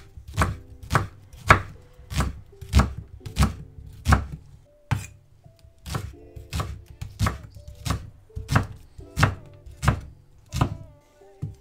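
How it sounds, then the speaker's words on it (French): Knife chopping shallots on a cutting board, a quick run of sharp, even thunks close by, a brief pause midway, then the steady chopping resumes. "Et tu commences du coup à couper."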